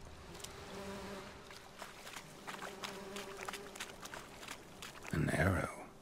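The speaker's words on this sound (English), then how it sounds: "That's a bee's nest." Buzzing from a bee's nest in The Witcher 3: Wild Hunt, a steady insect drone running under faint footsteps and game ambience, swelling louder and closer near the end.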